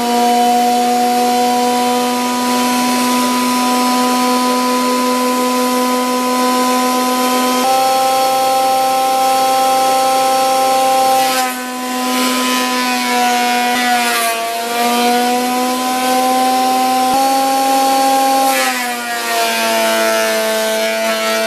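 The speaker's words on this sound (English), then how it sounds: "just need to start planing" A power planer cuts across a wooden spear shaft, a loud, sustained whine with strong tonal hum that dips briefly in pitch as the blade bites, running continuously with no voices.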